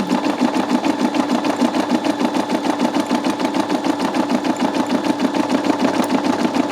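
A Brother SE625 embroidery machine stitches a design with a fast, steady, rhythmic whirring and clatter, close and constant, with no talking.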